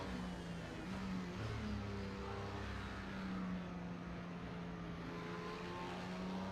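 A Toyota race car engine in Project CARS 2 holds a steady, droning whine at the Fuji circuit, heard alone at moderate volume.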